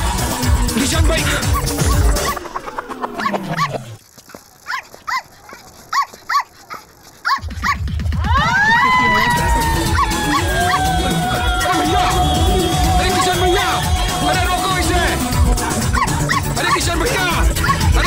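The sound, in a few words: dog barking and whimpering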